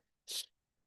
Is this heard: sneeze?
yes